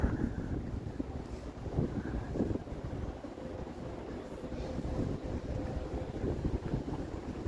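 Wind blowing and buffeting the microphone in low gusts on a damp autumn evening in Toronto, steady throughout, with a faint rumble in the background.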